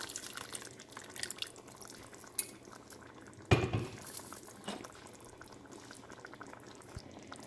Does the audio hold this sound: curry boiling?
yes